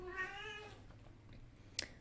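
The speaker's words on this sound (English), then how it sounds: "sorry about the cat" A cat meows once in a drawn-out, harmonic cry near the start, fairly close and clear over a quiet room, followed by a soft click a moment later.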